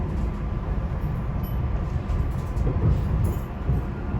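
A SEPTA Silverliner V commuter train runs on the rails near Philadelphia's Chestnut Hill West line, a loud, continuous low rumble and roar heard from inside with faint rhythmic rattling and no voices.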